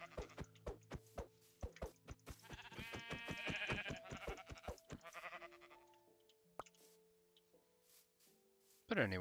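Sheep bleat in the Minecraft video game, a rapid series of sharp clipped calls followed by rising tonal bleats, then quieter sustained game tones and a final loud bleat.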